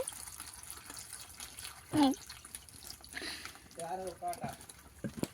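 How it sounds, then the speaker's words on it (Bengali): Cut eggplant pieces are swished and rinsed in a bowl of water, giving soft intermittent splashes and drips with a couple of louder sloshes, close by, with a faint voice now and then. "ভালো করে বেগুনগুলো আমি ধুয়ে নেব"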